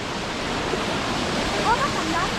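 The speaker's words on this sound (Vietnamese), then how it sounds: "Đây thác Trái Tim, hình Trái Tim như này không nhỉ?" The Trái Tim (Heart) waterfall at Sin Suối Hồ village in Vietnam, a steady, loud roar of falling water that fills the scene, with faint voices briefly heard over it.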